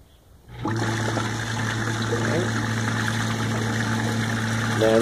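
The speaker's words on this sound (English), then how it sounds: "We're in our 35-second delay, allowing the pump chamber to fill with Greywater." A greywater system's pump chamber fills with greywater during its delay period, giving a steady close rush of running water over a constant mechanical hum that starts abruptly and holds evenly to the end.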